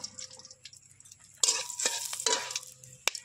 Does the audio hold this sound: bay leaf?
yes